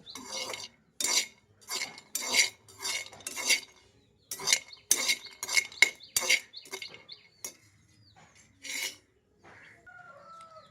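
Vermicelli being roasted in a pan for semiya payasam, stirred with a spoon that scrapes the pan in repeated dry, gritty bursts, pausing between strokes, close up with no talk.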